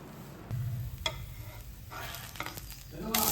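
Sweet potato pancake batter sizzles on a hot dosa griddle, a steady close crackle under clatter with a few sharp ticks and scrapes spread through the few seconds.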